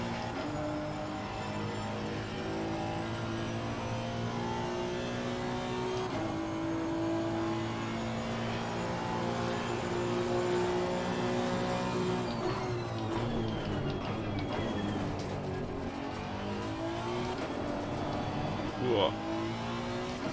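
A race car driving laps at Zandvoort, its engine droning steadily with pitch shifts through gear changes and throttle, heard from onboard, with someone talking over it.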